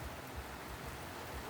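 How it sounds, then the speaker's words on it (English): Heavy rain pours down steadily outdoors at a car repair spot, a dense, even hiss of drops with no breaks, moderately loud and unbroken. "Now it's pissing down rain."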